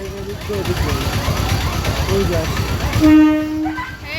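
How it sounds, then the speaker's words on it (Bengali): A train pulls into Masalandapur station after the level-crossing gate comes down, with a loud rumbling roll of wheels and carriages, then a sustained horn blast near the end, heard close against platform noise with people talking. "এই যে ট্রেন চলে এসেছে"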